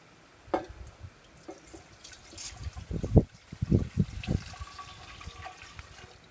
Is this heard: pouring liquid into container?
yes